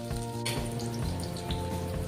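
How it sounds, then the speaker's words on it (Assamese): Chopped onions frying in oil with five-spice seeds in a wok, a steady close sizzle and crackle with faint tonal hum underneath. "তেল দি পাঁচপন কেইটামান দি দিলোঁ। তাৰপিছতে কাটি থোৱা পিঁয়াজকেইডোখৰো দি দিছোঁ।"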